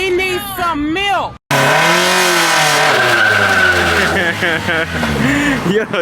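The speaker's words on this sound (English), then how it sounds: "this car will not do a burnout" An EG hatchback with 39K miles revs hard while its tires squeal in an attempted burnout. The engine pitch swoops up and down, loud and close, and excited voices shout over the noise.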